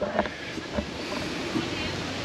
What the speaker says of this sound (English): You have to pardon the wind.